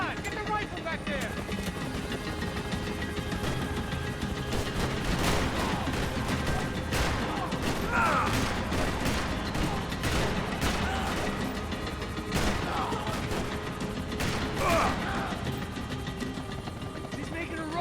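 Rifle gunfire from Max Payne 3 crackles in repeated sharp bursts through a loud, busy game mix of engine noise and crashes, with shouting voices over the top.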